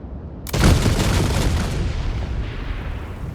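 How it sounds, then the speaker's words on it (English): A big stack of C4 charges detonates in a video game, a sudden loud blast that bursts in after a short quiet start and rolls on as a dense, sustained rumbling roar of explosions. "you can actually stack a lot of C4s before you detonate them all"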